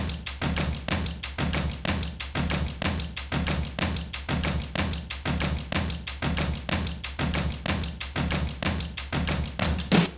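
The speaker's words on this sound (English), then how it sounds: "I chopped it up a little bit and it sounds like this." A chopped cinematic drum loop from Splice pounds steadily, with dense rapid hits over a heavy low rumble and a driving, relentless rhythm, loud and unbroken with no voices.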